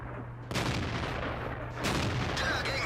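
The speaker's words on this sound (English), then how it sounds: "I'm firing blindly at the IS right now, hoping to hit something" A tank cannon fires in World of Tanks: two heavy blasts about a second and a half apart, loud and close, over a constant engine rumble.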